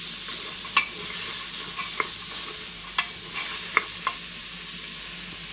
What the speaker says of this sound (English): cinnamon and turmeric powder and ginger powder to this lovely dessert, and a few seconds stirring them